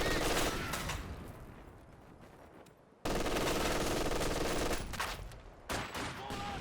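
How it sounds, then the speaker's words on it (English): Machine gun fire in a Company of Heroes 2 1v1 match, loud sustained bursts of automatic fire that cut out briefly near the three-second mark and then resume, with scattered gunshots layered over it. "Looks like maybe he's trying to bait the machine gun to fire at this squad"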